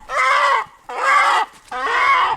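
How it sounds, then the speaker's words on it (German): Chickens on a farmyard holding set in the middle of a village, with three roosters among the hens, give three loud, close bursts of harmonic clucking and squawking, each lasting under a second and separated by short pauses. "Insgesamt sind jetzt 3 Hähne da"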